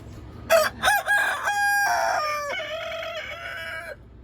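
Roosters crowing back and forth on a summer morning, several loud close crows in quick succession, the last one long and drawn out, with no talk over them.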